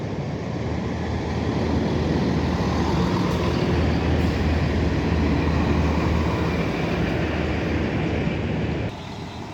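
A Chiltern Railways passenger train rumbles steadily along the rails near Aylesbury, England, loud and close, a constant low roar that drops off abruptly near the end.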